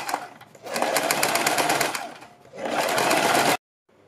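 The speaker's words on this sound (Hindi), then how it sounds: "हम बुकरम के बिल्कुल बराबर में पूरे गले के ऊपर सिलाई लगाएंगे" A sewing machine stitches around a kurti neckline over buckram interfacing in two loud, close bursts of rapid whirring, separated by a short pause and ending abruptly.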